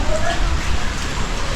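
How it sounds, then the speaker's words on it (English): Steady rain falls across the whole stretch as a dense, even hiss, moderately loud and close, with no clear pauses, on a wet day in a town in the Philippines. "Yeah, it's still raining."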